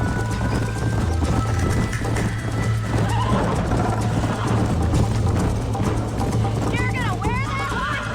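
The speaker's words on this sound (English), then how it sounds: "You're gonna wear that horse out." Rapid rhythmic hoofbeats of a galloping horse in the video game Red Dead Redemption, under a steady low hum, with a horse whinny near the end.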